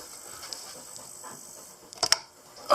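Dog panting close by in a quick, soft, rhythmic breathing pattern, faint and steady, followed by a few louder scratching bumps near the end.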